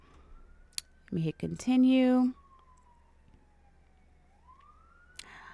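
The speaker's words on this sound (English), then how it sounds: "Sorry about the passing sirens." A fire engine siren wails in the background, rising and falling across the clip, with brief speech and a couple of loud tonal bursts.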